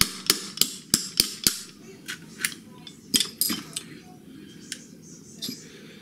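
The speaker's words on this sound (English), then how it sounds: "You push this pin out." Metallic clicks and taps from working the slide stop pin of a Glock 21 pistol, a quick run of five sharp close ticks followed by scattered lighter knocks and small rattles.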